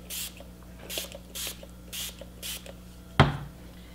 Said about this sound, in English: And I need to again spray it.